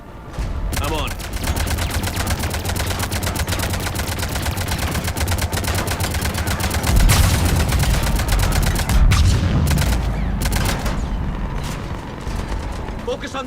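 Rapid, relentless mechanical gunfire from ship cannons in the video game Mass Effect 3, a dense stream, loud and close, with heavier booms punctuating the barrage partway through.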